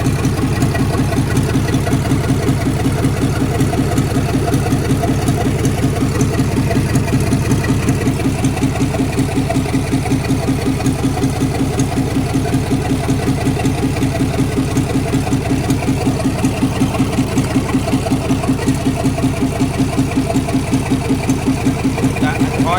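An Isuzu Rocky truck's 6BG1 diesel engine idles close by, a loud, steady, rhythmic clatter and low chug that holds unchanged throughout.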